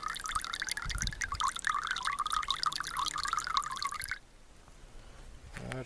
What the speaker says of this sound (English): Hose come off the hydrant pack, and I just squeeze it. Put water in my tea kettle there.